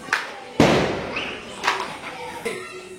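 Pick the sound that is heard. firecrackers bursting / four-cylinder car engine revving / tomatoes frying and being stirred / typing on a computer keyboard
firecrackers bursting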